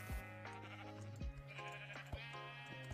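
Sheep in the video game Minecraft bleat several times in close succession, loud and near over a steady low game hum, with no talking.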